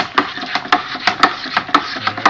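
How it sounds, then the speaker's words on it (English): Bentonite is stirred into wine kit must with a steady, fast rhythm of scraping strokes against the fermenting bucket, loud and close with no talking. "I'm just giving that a good stir"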